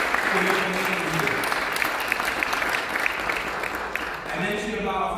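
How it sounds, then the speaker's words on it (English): An audience claps during a Hispanic Heritage Month celebration in the New York City Council chambers, a loud sustained round of applause with voices talking over it near the start and end. "That deserves a big round of applause."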